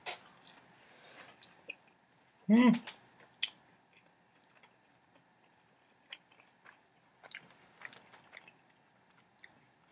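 Someone eats Toppers Pizza Spicy Karls dipped in marinara sauce, with quiet close chewing and scattered soft crunchy bites, one louder bite standing out, in an otherwise hushed room.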